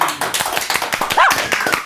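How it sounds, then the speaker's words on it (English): Scattered audience applause at a motorsport talk show, with distinct individual claps in an uneven rhythm, fairly close and loud, plus a brief whistle-like tone midway. "Sprouty milking the applause."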